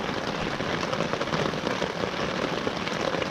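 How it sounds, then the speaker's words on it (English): Torrential rain falls at a campsite, a dense, steady hiss of drops that fills the scene without pause and has no voices over it. "It's torrential rain"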